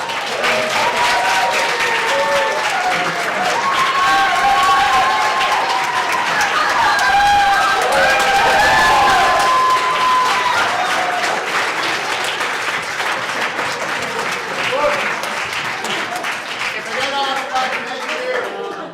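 Loud, sustained applause from a conference audience at an education technology session, dense clapping filling the room for the full stretch, with cheers and shouts rising through it.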